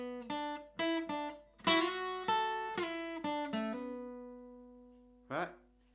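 Picked notes ring out from a guitar playing the second phrase of a fingerstyle tune, close and clear with let-ring chords in an uneven melodic rhythm, then a pause before one final strum.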